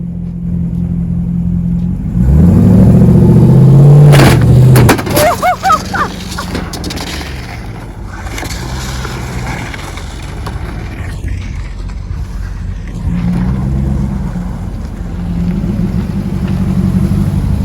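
A Jeep Gladiator's engine revs hard while pulling a stuck vehicle out of snow, a loud rising roar in the first seconds that eases into a steady low idle rumble, with brief indistinct voices partway through.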